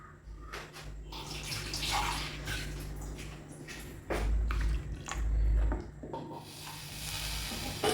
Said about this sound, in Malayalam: അപ്പോൾ ഒരു ലേശം വെള്ളം കൂടെ ഒഴിച്ചു കൊടുക്കും.